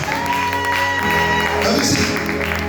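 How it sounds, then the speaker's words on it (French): A church congregation at a Wednesday worship service claps and cheers steadily, with a loud, sustained wash of applause and voices throughout. "Acclamez pour sa vie, acclamez pour sa vie."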